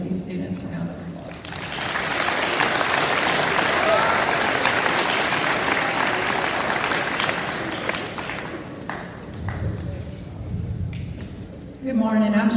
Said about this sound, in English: We can give these students a round of applause.